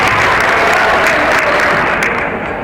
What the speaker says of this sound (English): The crowd brings it up.